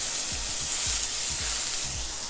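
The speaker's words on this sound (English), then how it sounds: "we are gonna cook these bell peppers down until they become not so much softened, because you want texture in your pasta, but just slightly softened" Bell peppers sizzle as they cook down in a pan for rasta pasta, a steady bright frying hiss with a few soft low thumps of stirring, close and without talk.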